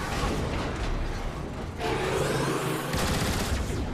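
Turret gunfire in the video game War for Cybertron, a dense, continuous burst of rapid shots with mechanical clatter and booms, loud and close throughout with a brief dip midway.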